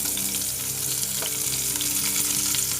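Onions fry in oil in a pan alongside capsicum and carrot, producing a loud, dense, continuous close-up sizzle with a brief stirring scrape midway.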